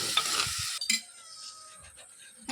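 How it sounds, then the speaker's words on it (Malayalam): A spatula stirs small tomatoes and green chillies in a hot pan for fish curry, with a soft steady sizzle under a few scraping strokes, close and fairly quiet. "ചെറിയ 2 തക്കാളിയും പച്ചമുളകും കൂടി ഇട്ട് നന്നായി ഒന്ന് ഇളക്കി മിക്സ് ചെയ്യാം."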